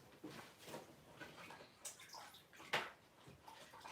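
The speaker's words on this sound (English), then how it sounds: "Just putting that in water again." A delicate texture stencil, used in mixed media work with sand-grain paste, lowered back into water with soft sloshing and small splashy drips, quiet and close.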